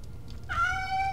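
A single clear, high-pitched meow from a cat in the stealth game Thief: Deadly Shadows starts partway in and holds steady, alone over a quiet low background hum.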